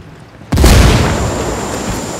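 A frag grenade goes off in Ghost Recon Wildlands as a single loud, close boom after a brief quiet moment, then a rumbling tail that slowly fades.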